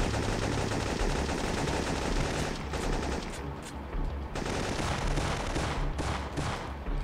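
Sustained, dense gunfire from the video game Syphon Filter 3, rapid bursts in a sniper-and-flanking battle scene filling the whole stretch, loud and continuous with no talk over it.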